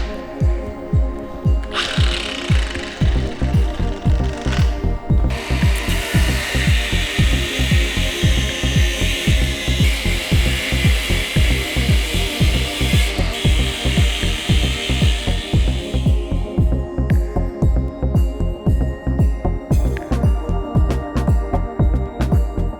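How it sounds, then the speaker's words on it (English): A Milwaukee angle grinder cutting metal knobs off a shop floor gives a loud, continuous rhythmic whine with a harsher, brighter cutting stretch in the middle, close up and alone. "And I got my trusty Milwaukee grinder,"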